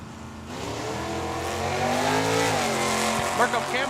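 Drag cars launching at Tucson Dragway, a red Chevelle in the right lane, their engines revving hard and climbing in pitch, then dropping off as one shifts, with a brief tire chirp near the end and a voice talking over it.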